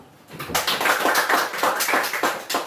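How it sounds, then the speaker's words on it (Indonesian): A school class claps hands together in a classroom, a brisk run of rhythmic group clapping in evenly spaced bursts, lively and close, with no talking. "tepuk tangan dulu"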